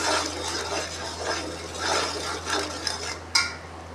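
Salt and chili powder being stirred together in a metal bowl for beef, spoon scraping and clinking steadily close up, with one sharper knock near the end.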